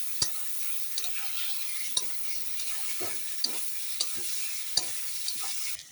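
Boiled peas being stirred into a spice masala frying in a pan: a steady sizzle with about eight sharp spoon scrapes and clicks spaced roughly every second, close and fairly quiet.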